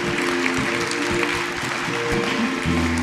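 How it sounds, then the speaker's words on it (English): An audience fills a university lecture hall with steady, dense clapping at a conference, sustained and fairly loud throughout with a faint tonal undertone, and no voices over it. "This is your applause."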